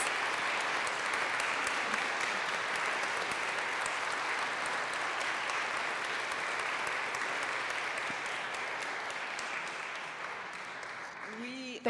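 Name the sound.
audience applause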